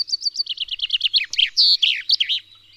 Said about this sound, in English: That's the sound that you're hearing with a chaffinch.